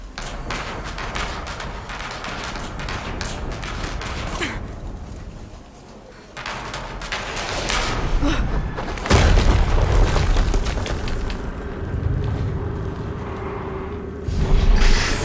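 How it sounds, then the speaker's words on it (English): Deep booming explosions in the video game Horizon Zero Dawn Remastered, with a heavy blast around the middle and another toward the end, amid rumbling game ambience and whooshes. "Another explosion."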